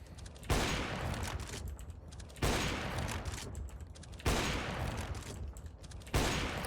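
Gunfire in Counter-Strike: Global Offensive, four loud sharp shots spaced evenly about two seconds apart, each trailing off into a long decaying echo, with no talk over them.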